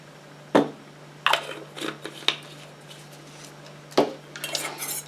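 Candle wax mixture being stirred for homemade wax melts, a few sharp clinks and scrapes of a utensil against the container, spaced irregularly over a steady low hum.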